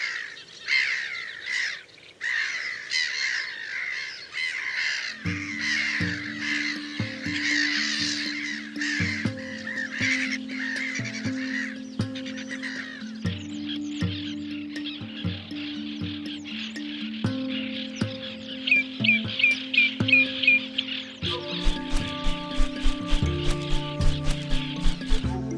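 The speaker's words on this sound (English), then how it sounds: "As in a colony of black-headed gulls, fledglings grow rapidly all around." A colony of black-headed gulls calls in a wetland, harsh overlapping cries and squawks from many birds, fairly close and busy, while a plucked melodic music line enters and grows more prominent partway through.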